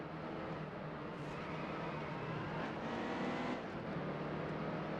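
A race car in the NASCAR Heat 2 game roars past on a track, with a continuous moderate engine drone and whir that swells slightly midway, and no talking.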